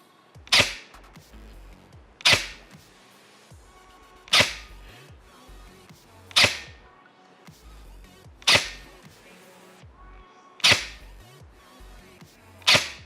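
An ARES M45X-S airsoft pistol fires BBs on a range, six sharp cracking shots spaced about two seconds apart, close and loud with brief decays and no talking between them.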